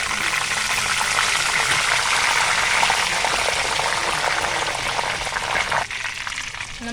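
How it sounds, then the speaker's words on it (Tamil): Banana chips frying in hot oil just after a sprinkle of turmeric and salt water: a loud, bubbling sizzle that runs continuously, then eases slightly near the end. "இந்த மாதிரி தண்ணி தெளித்து விட்ட பிறகு இந்த சலசலப்பெல்லாம் சுத்தமாக அடங்கி வரணும்"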